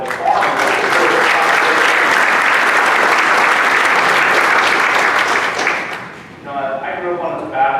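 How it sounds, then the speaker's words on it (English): A Rotary meeting audience gives a loud, sustained round of applause for cooks, food servers and farmers, dense clapping filling the room for about six seconds before it tapers off and a voice begins speaking. "let's give our cooks and those who service our food a round of applause, and the farmers"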